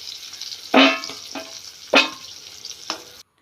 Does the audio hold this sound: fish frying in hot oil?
yes